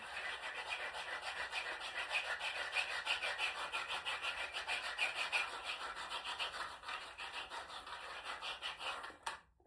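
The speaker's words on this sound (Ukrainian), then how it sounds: "Дуже класний ось такий масажер. Він класно працює, пропрацьовую, я його обожнюю." A handheld massager rubs over skin during a home body wrap treatment, giving a close, continuous scratchy rasping with a fast pulsing texture that stops abruptly at the end.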